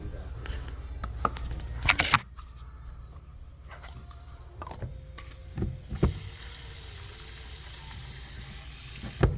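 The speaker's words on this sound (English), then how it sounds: "just take one of the little cups and rinse all that sandy stuff out of there" Water from a tap comes on in short bursts to rinse sandy residue out of a small cup, with clinks and handling knocks between, and a steady gush returning toward the end.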